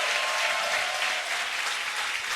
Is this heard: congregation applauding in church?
yes